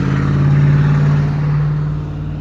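A Hummer fitted with racing gear revs loudly as it passes nearby, a strong, sustained engine drone with a steady tone that eases off slightly as it moves away.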